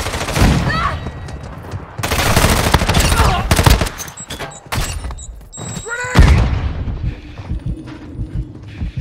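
A grenade blast amid machine-gun fire in Call of Duty Warzone Mobile, heavy bursts and thumps arriving in loud waves with short gaps, and brief game radio voices in between.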